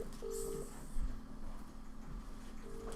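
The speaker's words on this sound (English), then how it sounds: "I'm going to phone him anyways" A telephone being dialed at a live museum quiz: a few short steady dial tones sound at moderate level over a low background hum, with no talk.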